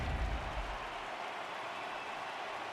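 Crowd applause and cheering in the baseball video game MLB The Show 18, Arizona against the New York Yankees, forming a steady, even wash of stadium noise with a slightly heavier rumble at the start.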